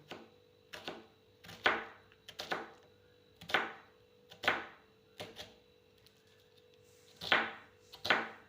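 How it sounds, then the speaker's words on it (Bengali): A knife chops an onion on a cutting board, about ten crisp, distinct strikes in an uneven rhythm with short pauses between them, close and clear over a quiet background. "এবার আমি পেঁয়াজটাকে কুচি করে নিচ্ছি"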